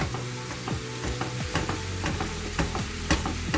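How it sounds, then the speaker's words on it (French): Minced meat sizzles in a pan with translucent onion and garlic, a steady dense crackle broken by frequent scraping stirs of a spoon against the pan. "je rajoute mes 500 g de viande hachée"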